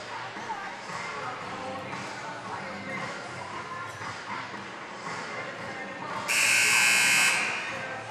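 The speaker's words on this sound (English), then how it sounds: "So there's the buzzer." A loud, flat electronic buzzer blares for about a second during a timeout at a 2015 high school basketball game, cutting through the steady gym crowd murmur and voices.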